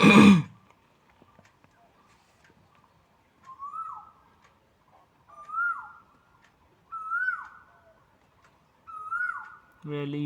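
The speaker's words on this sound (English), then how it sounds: "This bird's name is cuckoo, I guess. Kokil in Bengali." A cuckoo (kokil) calls four times outdoors, each a clear rising-and-falling note spaced about a second and a half apart, fairly near and steady, with brief louder bursts of noise or voice at the start and end.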